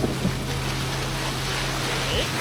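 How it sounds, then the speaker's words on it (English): Rushing, churning ocean water and waves surging around a boat in a Simpsons cartoon, a broad continuous roar with a low steady hum beneath. "A gigantic wave was about to crash down on them."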